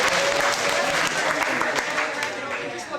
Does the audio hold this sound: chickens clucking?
no